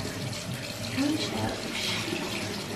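Water runs steadily from a shower or tap in a home bathroom, a constant hiss close by while someone talks over it.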